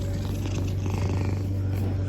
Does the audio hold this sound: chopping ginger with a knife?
no